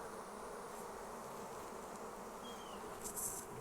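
Honey bees swarming near a beehive: a dense, steady buzzing hum of many bees, close and continuous throughout, with no voices.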